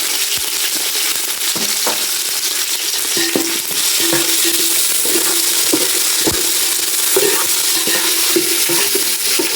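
Onions being fried and stirred in a pan with curry leaves for a Sunday fish curry, steady close sizzle with scattered scraping stirs and light clinks throughout.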